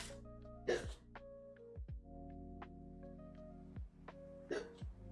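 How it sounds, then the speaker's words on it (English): A person hiccups several times at uneven intervals, short sharp catches of breath, close and clear over a quiet kitchen background with a steady low hum. "Oh, hiccups."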